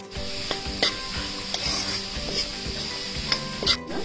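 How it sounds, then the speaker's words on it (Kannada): Chopped carrots and beans frying in a pan for a veg burger filling, a steady close sizzle with several scraping stirs and light clinks of the spoon against the pan. "ಈಗ ಸಣ್ಣ ಹಚ್ಕೊಂಡಿರೋ ಕ್ಯಾರೆಟ್, ಬೀನ್ಸ್, ಇದೆಲ್ಲ ತುಂಬಾ ಬೇಯೋದು ಬೇಡ, ಸ್ವಲ್ಪ ಕ್ರಂಚಿ ಆಗಿರೋಷ್ಟು ಹುರ್ಕೊಂಡ್ರೆ ಸರಿ."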